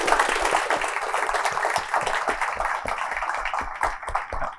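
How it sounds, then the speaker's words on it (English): An audience at a sports diplomacy panel on PNG and the NRL gives the panelists a round of applause, a steady mid-level patter of many hands clapping throughout. "can you please give a round of applause for our panelists today?"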